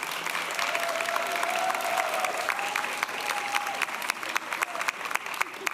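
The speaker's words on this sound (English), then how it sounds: "I want to ask you to clap your hands and thank your family and your friends" Students at a nursing pinning ceremony applaud their families and friends, steady full-room applause with dense crackling claps and a brief cheer mixed in, holding at a constant level throughout.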